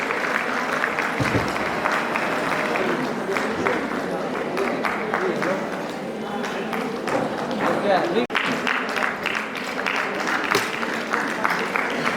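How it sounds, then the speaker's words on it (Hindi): An audience at a ceremony applauds continuously, a dense and loud wash of many hands clapping close by with a few heavier thuds mixed in, lasting throughout. "सम्मान की श्रृंखला चल रही है तो तालियां बंद नहीं होनी चाहिए, तालियां बनती हैं।"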